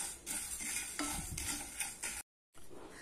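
Dry ginger and coriander seeds dry-roasting over a medium flame, with repeated scraping and rattling stirs in the pan, close and fairly quiet. A short silent gap falls near the end.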